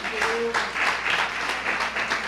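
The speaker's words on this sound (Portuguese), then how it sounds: "Dê uma salva de palmas ao Senhor." A church congregation applauds together, a steady wash of clapping filling the sanctuary at moderate volume, with a brief tonal sound near the start.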